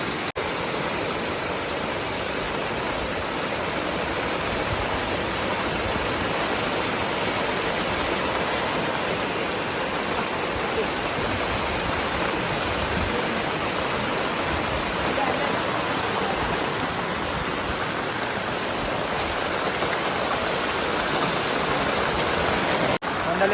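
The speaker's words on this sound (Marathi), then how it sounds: "पाणी पण जोरात आलं आता" Rushing water roars steadily and continuously, a dense, even wash of sound with nothing else standing out, heard at night while fishing in the Konkan region.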